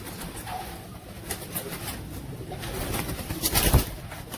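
Royal teddy pigeons in a loft, with soft cooing and faint rustling throughout and a brief louder flutter near the end, close and moderately quiet.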